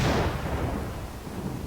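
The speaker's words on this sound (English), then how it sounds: "There's the sound of the gun firing," A single gunshot sound effect from a game built in the Godot engine: a loud, close burst that decays into a rumbling tail, heard alone.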